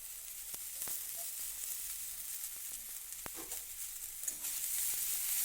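Drumstick flowers are fried in a pan, giving a soft steady sizzle with occasional scraping clicks of a spatula as they are stirred, faint and close with no speech.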